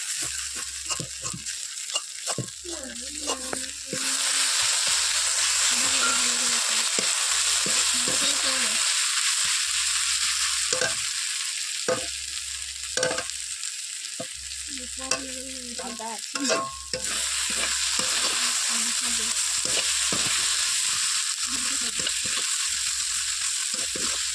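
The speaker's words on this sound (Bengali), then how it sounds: "চপের মশলার জন্য কড়াই তেল দিয়ে পেঁয়াজ আর আদা রসুন দিয়ে ভেজে নিতে হবে।" Onion, ginger and garlic fry in oil in a wok with a continuous close sizzle, broken by repeated stirring and scraping strokes of a spatula against the metal.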